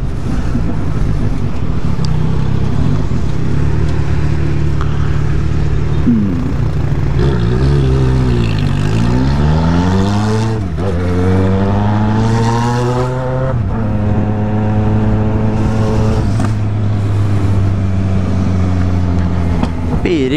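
A car engine revs loudly and close while driving, its pitch rising and falling through gear changes and acceleration, steady and prominent throughout with some faint voices in the background.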